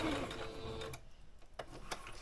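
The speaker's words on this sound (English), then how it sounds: "I'm just going to go ahead and sew through it." A sewing machine stitches steadily through dress pieces with a fast mechanical whir, then breaks into a few separate clicks and short runs, close and fairly quiet.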